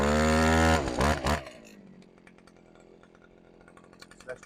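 A Stihl petrol auger drilling planting holes for trees roars loudly at high revs for about a second and a half, surges once more, then drops to a low idle that runs on to the end.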